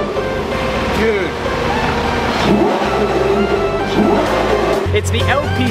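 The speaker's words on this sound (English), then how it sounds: "It's the LP670 Super Veloce. You guys have to hear this V12." Lamborghini LP670 Super Veloce V12 engine revving outdoors, its roar rising and falling under excited nearby voices.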